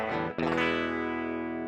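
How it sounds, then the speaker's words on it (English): A single dry electric guitar chord, played direct into a computer, rings out plainly, preceded by a short pick attack, with no added effects and a steady natural decay. "the bypass signal is just a guitar going straight into the computer"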